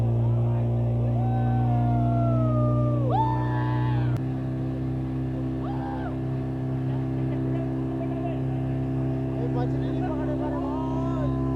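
Steady droning engine of a motorboat carrying a small group across a lake at a hill station, constant loud hum throughout with a shift in pitch midway, and voices talking over it.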